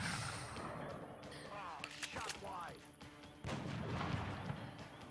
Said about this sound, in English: A sniper missed, but it was an Overwatch shot